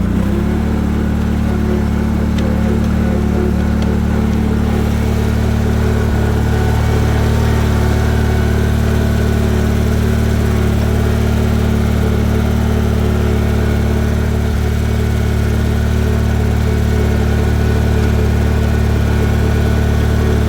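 The engine of a Bolens 1668 Hydro garden mini tractor runs steadily and loudly close by for the whole stretch, a constant mid-pitched chugging drone with no speech.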